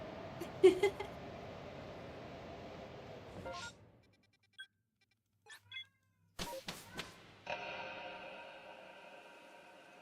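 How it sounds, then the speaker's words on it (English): A cat meows loudly indoors, a few sharp cries standing out over steady background game sound, with a quiet gap in the middle before the noise resumes. "now the cat's screaming"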